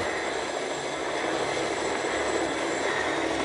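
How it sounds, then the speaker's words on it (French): A helicopter in the video game Fortnite sets down for a landing, its rotor and engine making a steady, dense whir that holds evenly throughout with no talk over it. "il y a un autre hélicoptère. Ah, je crois qu'il atterrit."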